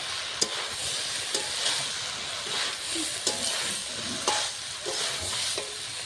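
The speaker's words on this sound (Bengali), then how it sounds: "সবজিটা আমি হালকা করে কষিয়ে নিয়েছি" Lightly sautéed vegetables for a fish-roe chochchori sizzle steadily in a pan, with periodic sharp scrapes and clinks of a spatula stirring them; no voices.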